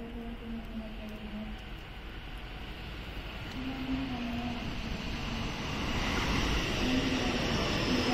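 A JR Special Rapid train pulls into Yamashina Station in snow, its rumble and rolling wheels swelling steadily louder as it nears, with brief tonal squeals and hums over the noise.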